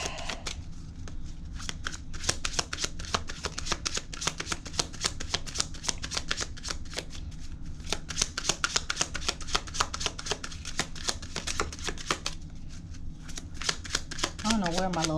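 Tarot cards are riffled and shuffled continuously in rapid, crisp flutters close to the microphone, with someone talking over the shuffling.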